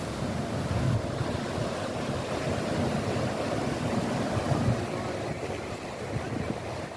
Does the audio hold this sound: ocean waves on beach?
yes